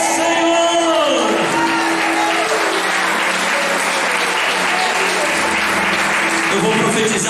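A church congregation bursts into loud, sustained applause with cheers and shouts, while a sung or spoken voice rings out over the clapping at the start.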